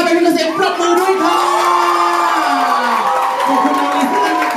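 A crowd at Lisa's first fan sign and press conference in Bangkok cheers and shouts with sustained excited screams and whoops, loud and close, filling the whole stretch with a dense wall of voices.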